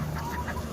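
Kelso gamefowl hens of the old blood Johnny Jumper line cluck softly close by, a few short low calls over a steady background hum.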